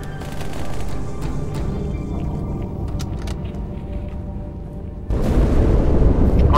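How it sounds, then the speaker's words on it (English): Explosion in the Halo 2 video game: a low, churning rumble builds steadily, then a loud, deep boom bursts in near the end and keeps roaring. "That explosion came from inside the Athens, same as the Malta."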